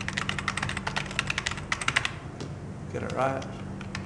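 Keys on a computer keyboard are tapped in quick irregular bursts while a new password is typed, close and fairly clear, with someone talking briefly near the end.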